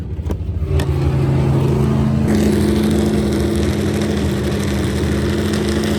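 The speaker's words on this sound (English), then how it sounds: "a top fuel dragster. It's quite noisy, but it's quite exciting." Loud, continuous engine roar of a top fuel dragster at Santa Pod drag racing venue, heard close up from inside a sound-isolated room, with a steady low rumble and a rising harder tone after a couple of seconds.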